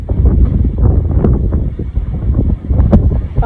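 Strong outdoor wind buffeting the microphone, a loud continuous low roar that gusts and swells throughout.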